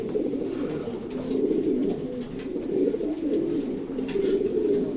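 A pair of racing pigeons coos steadily in a loft, soft rolling calls overlapping close to the microphone throughout, with no talking.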